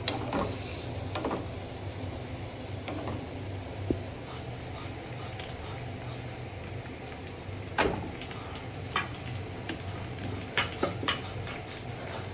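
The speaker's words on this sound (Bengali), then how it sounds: "এখানে আমি কিছু পেঁয়াজ বেরেস্তা করে নিব" Sliced onions frying in a pan for a crisp fried-onion garnish, giving a steady close sizzle with scattered louder crackles and pops throughout.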